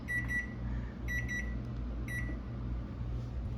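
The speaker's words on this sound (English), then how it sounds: "my timer's going off telling me that I need to check my millet" A kitchen timer sounds while millet cooks in an air fryer, giving bursts of high electronic beeps in repeated groups over a steady low hum of running appliances.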